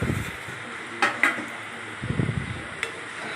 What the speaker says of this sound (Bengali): আবার ঢাকা সরিয়ে আবার নাড়তে থাকলাম